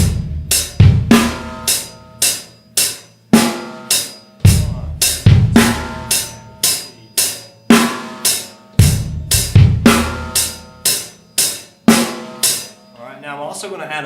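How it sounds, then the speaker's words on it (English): A drum kit plays a steady groove close up, with crisp hi-hat strokes and a punchy backbeat snare repeating in even rhythm over roughly fourteen seconds. "Let's bring our backbeat snare drum back in"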